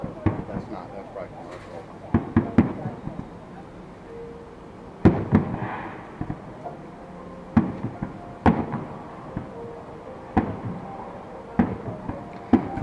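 Fireworks in Stamford, Connecticut go off at a distance as scattered sharp bangs and pops, repeating irregularly every second or two, under casual conversation nearby.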